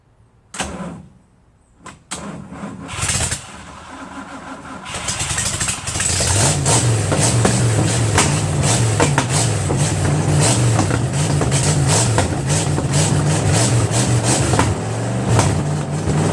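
Trackjeep with newly made, partly welded exhaust pipes: a few clanks and cranking bursts, then the engine catches and settles into a loud, rough, steady running roar for about ten seconds.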